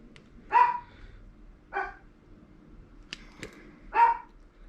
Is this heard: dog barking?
yes